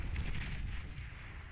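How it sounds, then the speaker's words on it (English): Bombs from a wave of bombers strike in the strategy game Beyond All Reason, a dense rolling rumble of overlapping low blasts that is loud and steady, then fades slightly, with no talk over it. "the bombs get dropped."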